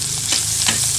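Garlic fries in oil previously used to fry fish, giving a steady close crackling sizzle with a few stirring scrapes over about a second.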